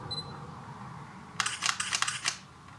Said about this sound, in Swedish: jag tänker att jag tar en bild på mitt lilla stativ här